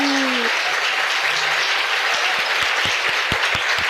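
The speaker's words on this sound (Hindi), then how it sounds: "क्या हम प्रभु के लिए एक अच्छी ताली बजा सकते हैं?" A church congregation bursts into sustained, dense hand clapping for the Lord, loud and even throughout, with a brief voice at the very start and a few low thumps near the end.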